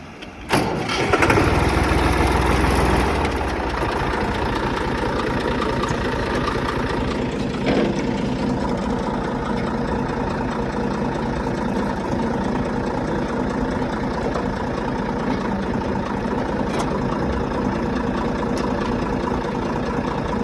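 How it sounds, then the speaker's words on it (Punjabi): A tractor engine starts with a loud, rough burst, then drops into a steady, close, continuous idle that runs on for many seconds with no talking over it. "ਲਓ ਜੀ ਟਰੈਕਟਰ ਹੋ ਗਿਆ ਰੈਡੀ ਪਿੱਛੇ ਆ ਹੱਲੜ ਤੇ ਚੱਲਦੇ ਆ ਸਟਾਰਟ ਕਰਦੇ ਹਾਂ"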